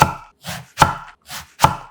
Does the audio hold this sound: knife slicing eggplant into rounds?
yes